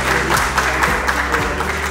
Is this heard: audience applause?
yes